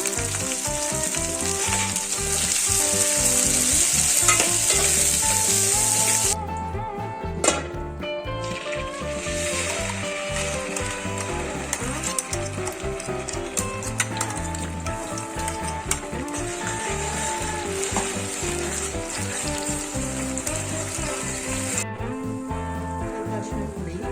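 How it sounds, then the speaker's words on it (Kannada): Cinnamon, cloves, coconut, cardamom and poppy seeds fry together in a pan for a Maharashtrian mutton curry, giving a close hissing sizzle over steady background music. The sizzle drops out briefly and then resumes, with a few scattered stirring taps. "ಚಕ್ಕೆ, ಲವಂಗ, ತೆಂಗಿನಪತ್ತ, ಏಲಕ್ಕಿಕಾಯಿ, ಕಸಕಸೆ ಎಲ್ಲ ಮಿಕ್ಸ್ ಫ್ರೈ ಮಾಡ್ಬೇಕು"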